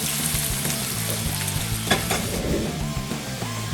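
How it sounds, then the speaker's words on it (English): Sweet onions sauteing in a wok make a close, continuous sizzle and crackle, with the occasional scrape of stirring rising above it, and no voices. "To start the saute with the sweet onions, I chose the wok as the vessel"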